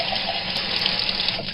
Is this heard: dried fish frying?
no